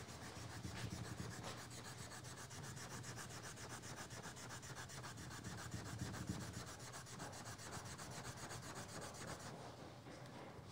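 Steady, continuous scraping as a rubber-bonded abrasive block is rubbed back and forth over saw metal, working on rust and pitting; close, even and unbroken for the whole stretch, with no voices.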